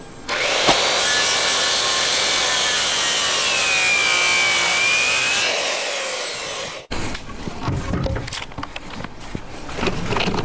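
Handsaw or power saw cutting a wooden gable end rafter during a rotted-rafter repair, a loud steady cutting drone for about five seconds that stops abruptly, followed by clattering work noises, with no talk.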